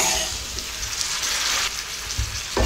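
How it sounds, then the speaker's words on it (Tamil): Boiled, drained potatoes fry with masala in a pan, giving a loud, dense sizzle that rises briefly and ends with a louder stir or clatter, close up and without speech. "இது கூட நம்ம நல்லா வடிச்சு வச்சிருக்க உருளைக்கிழங்கு சேர்த்துக்கலாங்க."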